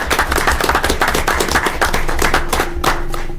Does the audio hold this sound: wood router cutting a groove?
no